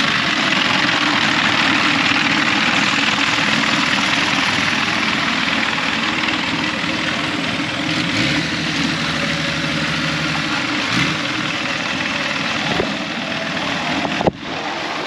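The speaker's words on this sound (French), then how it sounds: "il y a un gros moteur là." A large engine, likely on a boat in Krabi, Thailand, runs and idles with a loud, steady low rumble that continues throughout, with a brief clunk near the end and no talk.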